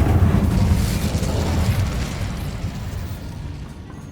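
An Incendio fire spell blast in Hogwarts Legacy, a loud booming whoosh of flame up front that rumbles and slowly fades away over a few seconds.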